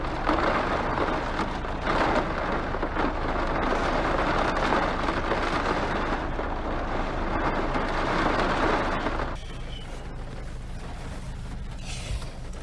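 Rain pouring outdoors in a steady hiss of drops on surfaces, loud and continuous, thinning noticeably toward the end; no speech.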